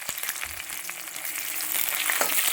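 Slit green chilies dropped into hot oil with garlic and cumin crackle and sizzle in a dense, continuous hiss that grows slightly louder over the short stretch, with a few faint clinks underneath.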